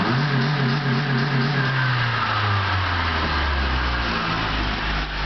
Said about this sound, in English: Here's the red line real quick.